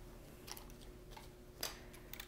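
Scissors snip through a split stitch of yarn on an LK-150 knitting machine, a couple of brief, quiet crisp cuts over a low steady hum.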